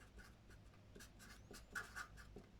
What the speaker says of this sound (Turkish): Şimdi onu bir yazıyorum.